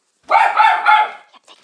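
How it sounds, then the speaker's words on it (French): A house dog named Jack barks indoors in one sustained, strained burst lasting about a second, followed by a few faint, softer yelps, reacting to people walking past in the street outside. "Je sais pas pourquoi Jack y jappe"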